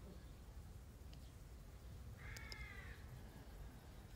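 A crow gives a single cawing call at a distance over quiet outdoor background noise in a village, and no one speaks.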